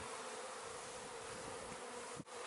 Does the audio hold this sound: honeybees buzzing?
yes